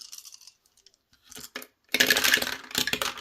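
Small dice, including a four-sided die, tumble and clatter across a hard surface in a board-game setup, a few faint taps first and then a dense burst of rattling for about a second.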